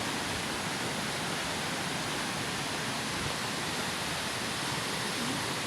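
Majay-jay waterfall roaring steadily and loudly, a dense, unbroken rush of falling water filling the whole moment with no voices.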